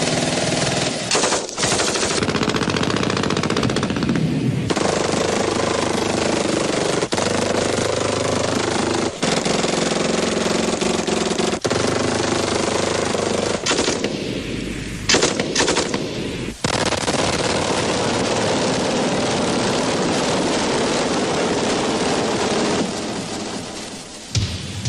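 Sustained, loud automatic machine gun fire, recorded for a Dillon Precision tape, with dense overlapping bursts and a few brief pauses across a long stretch and no talking.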